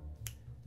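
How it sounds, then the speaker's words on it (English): One crisp finger snap, close and fairly quiet, over a low musical hum in the background. "Sister's hands snap."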